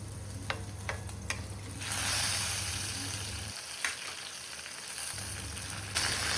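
Pabda fish, already fried, slipping into oil with black cumin and chopped green chilli, bursting into a soft steady sizzle after a few light clinks, with a brief stir and spatter near the end.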